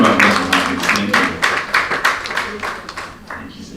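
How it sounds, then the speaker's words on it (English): A live audience claps for a performer named Celine at an afternoon gathering, a steady burst of many hands filling the clip, fairly loud and close, with some talk mixed underneath. "Round of applause for that."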